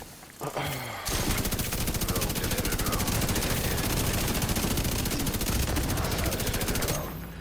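Rapid automatic gunfire in the video game The Division 2 rattles continuously for about six seconds after a brief quieter lead-in, dense and loud throughout before cutting off.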